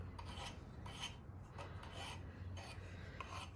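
Steady rasping of a file putting a small chamfer on thin threads of a hand-forged breech plug, continuous close strokes with brief pulses, no voices.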